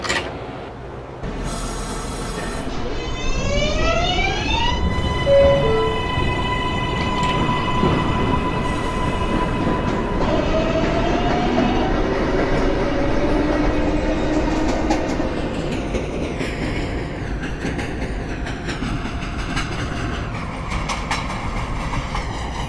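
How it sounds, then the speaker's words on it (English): An automatic IRT 7 local subway train running on rails, loud and close, with rising motor whine, rumbling wheels, clickety-clack and some wheel squeal across the whole span, no voices. "This is a 7 local train."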